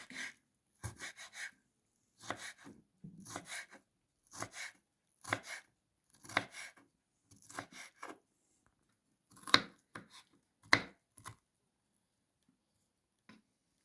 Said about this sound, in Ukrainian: І тепер нарізаємо отак на квадратики. На невеличкі такі квадратики.